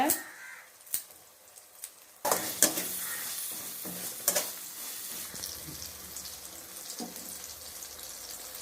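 A spoon stirs mushroom masala frying in a pan for a roadside-style Tamil mushroom dish, first with a few sharp scrapes, then a steady sizzle and scraping clatter that continues throughout.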